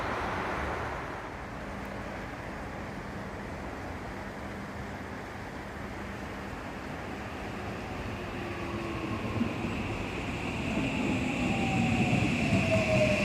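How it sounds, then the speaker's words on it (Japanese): An express train bound for Imba Nihon-Idai pulls into a Hokuso Line station platform, its rumble rising from a distance and swelling steadily louder, with wheel squeal and clatter building as it nears. "急行印旛日本医大行き電車が参ります"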